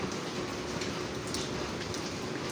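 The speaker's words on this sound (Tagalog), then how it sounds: "maulan pa din dahil may bagyo." Steady, dense hiss of heavy typhoon rain falling continuously, with faint scattered drips and no voices.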